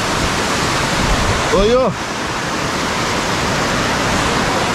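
A waterfall on a natural rock slide sends up a loud, constant roar of rushing water close by, while a man briefly calls out over it.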